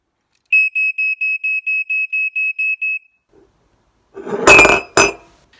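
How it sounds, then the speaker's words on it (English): A smoke alarm beeps about ten times in quick, even succession, high and piercing, followed by silence and then a burst of clattering noise. "Smoke alarm."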